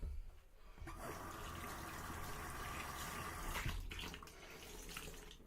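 Running water rinses away lather after a shave, a steady tap-like gush that starts abruptly and keeps flowing close by, with no talking.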